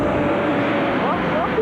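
Four-wheel drive car engine roaring as it climbs a steep sand hill in the Simpson Desert, a steady drone held under rising tones, with people talking over it.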